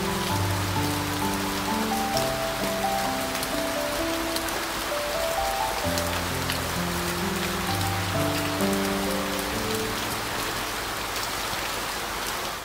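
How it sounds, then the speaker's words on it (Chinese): Steady autumn rain falls continuously, with a soft melodic music track playing over the patter throughout. "看着眼前的这场秋雨"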